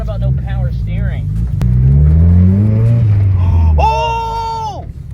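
A budget turbocharged Mazda Miata engine revs and pulls under load during a short test drive, a rising and falling drone close by, with people talking and exclaiming over it.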